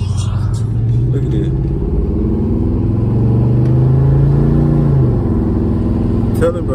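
A 1994 Chevy Caprice engine rumbles and revs steadily, loud and close, with the pitch rising and falling over several seconds under a continuous low drone.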